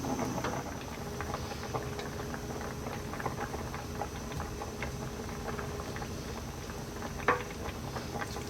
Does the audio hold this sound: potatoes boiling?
yes